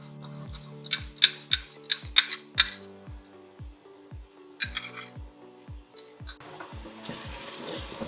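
A spoon scrapes and clinks against a karahi while beef tikka is stirred, giving a run of sharp metallic ticks in an uneven rhythm over a soft sizzle. The sound is close and moderately loud, and nobody talks.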